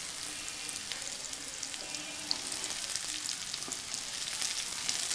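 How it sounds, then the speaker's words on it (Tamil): Onions with ginger, green chilli and pieces of meat sautéing in a pan for Srirangam kuska rice, a steady close sizzle with occasional stirring scrapes and no voices. "அதையும் கொஞ்சம் நல்லா வதக்குங்க"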